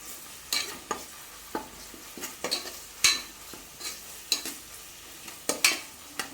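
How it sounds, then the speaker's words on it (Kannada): Ginger garlic paste frying in a pan for a mutton pulimunchi curry, with a quiet background sizzle broken by repeated sharp clinks and scrapes of a spoon stirring, close by. "ಶುಂಠಿ ಬೆಳ್ಳುಳ್ಳಿ ಪೇಸ್ಟ್ 2 ಚಮಚದಾತು ಪಾಡೊಂದಿಲ್ಲ ಲಾಯ್ ಫ್ರೈ ಆವಡು."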